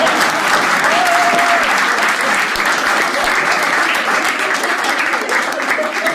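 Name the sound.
audience applause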